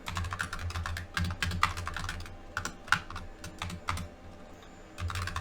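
Rapid bursts of clicking keystrokes on a computer keyboard as code is typed, close and moderately loud, arriving in uneven clusters with brief pauses and no talking.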